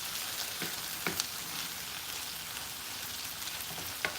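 Onions and garlic sauté quietly in a pan for a Ghanaian cocoyam leaf dish, giving a steady soft sizzle with a few faint pops and clicks.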